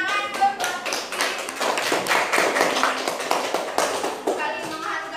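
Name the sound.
classroom students clapping for Rifki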